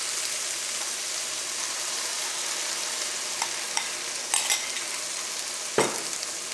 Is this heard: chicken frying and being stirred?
yes